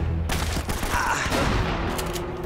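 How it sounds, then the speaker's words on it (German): Shotgun blasts from the video game Uncharted, several sharp loud reports in quick succession, close and punchy, with a faint voice underneath. "Eine Schrotflinte ist halt, wie gesagt, nur für nahe Distanzen gut."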